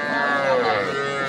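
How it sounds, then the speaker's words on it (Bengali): A small bull at a cattle market gives a single drawn-out moo, close and fairly loud, its pitch sliding gently downward. "এ পাশে ছোট ছোট কয়েকটা ষাঁড় গরু উঠেছে"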